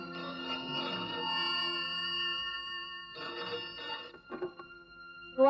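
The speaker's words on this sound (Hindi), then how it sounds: "फोन?" A telephone rings in repeated electronic trills, two long bursts separated by a pause, then a few short clicks, with no talking, in an old Hindi film.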